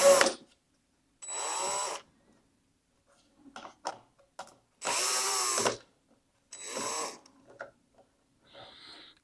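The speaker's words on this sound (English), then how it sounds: "then come and unscrew with the drill" A cordless power drill whirs in short bursts, unscrewing screws from a Rotai elliptical machine, with several close, loud runs of motor whine separated by silence and small handling clicks.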